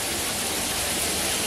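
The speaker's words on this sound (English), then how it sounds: "Good pressure and everything. It's a rain shower." Water streams steadily from a rain shower head in a bathtub converted into a shower, a dense, even hiss of spray at good pressure running unbroken and close throughout.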